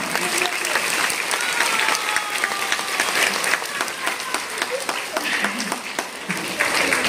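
Audience applause after a school performance: dense, sustained clapping from a large crowd fills the hall at an even, loud level for several seconds, with faint crowd voices mixed in.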